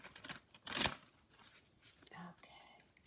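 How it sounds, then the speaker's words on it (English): An animal oracle card deck being shuffled in a quick burst of papery riffling, close and soft, with quieter card handling and faint voice sounds around it. "One more shuffle."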